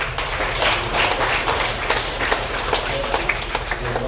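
A church congregation in Sint Maarten claps continuously, a dense patter of applause that carries on steadily from start to finish.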